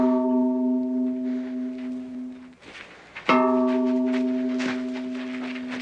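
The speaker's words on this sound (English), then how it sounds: "The tolling of the bell." A bell tolls in a TV show scene over a sustained tonal drone, its steady ringing pausing briefly midway before a loud strike resumes the resonant, lingering toll.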